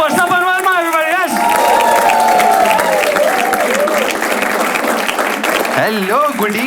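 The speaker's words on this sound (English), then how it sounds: "Come on, start clapping for Sapan Verma, everybody." Loud audience applause and cheering greet the comedian Sapan Verma at a stand-up comedy show, with a dense, sustained crowd roar and whoops running throughout while a voice speaks over it near the start and again at the end.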